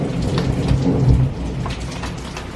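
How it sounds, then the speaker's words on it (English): A holiday thunderstorm in Menorca with steady rain pattering on surfaces and a low rolling rumble of thunder swelling and fading beneath it, heard close and continuous. "it's thunder and lightning"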